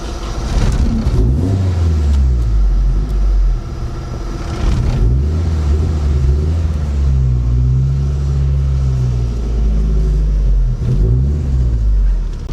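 Turbocharged Datsun wagon engine with a GT3582 turbo revving loud and close, its deep rumble climbing and falling through several throttle blips over a steady idle.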